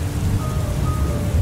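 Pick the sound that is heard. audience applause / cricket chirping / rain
rain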